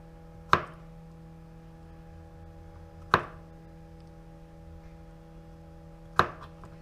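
Celery being cut with a knife on a board for chicken noodle soup, three sharp, isolated chops a few seconds apart, close and clear over a faint background hum.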